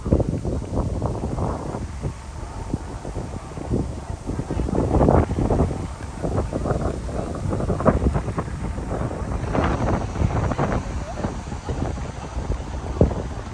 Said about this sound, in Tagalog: Malakas ang hangin, medyo mahangin dito mga kamars.